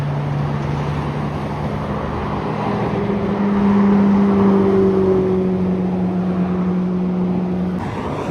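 A McLaren Senna hypercar driving past at Monterey Car Week, a loud steady engine drone that swells and shifts pitch as it passes close by, with no talking.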